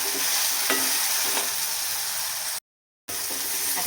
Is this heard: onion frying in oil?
yes